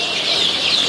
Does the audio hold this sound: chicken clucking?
yes